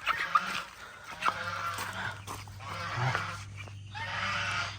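Several geese honk loudly and repeatedly close by, harsh nasal calls overlapping in bursts.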